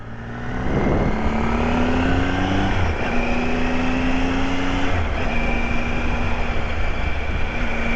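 Triumph Tiger 800 XCA motorcycle with a triple-cylinder engine being ridden, giving a loud, steady engine drone that climbs in pitch through the gears as it pulls past a pickup, with no talking over it.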